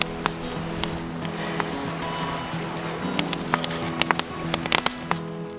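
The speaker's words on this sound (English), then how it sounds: "Seems to be raining." Light rain patters steadily at a lakeside campsite in Algonquin Park in autumn, with scattered louder drops ticking on nearby gear among dense soft crackle, no voices.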